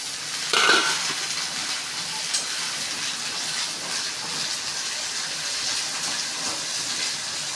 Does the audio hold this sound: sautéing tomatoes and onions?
yes